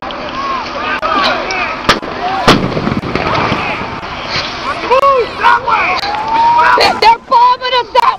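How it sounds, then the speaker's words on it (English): Tear gas and smoke bomb launches at a peace march, repeated sharp bangs and hissing bursts over a loud crowd with shouting voices throughout. "Tear gas, smoke bombs."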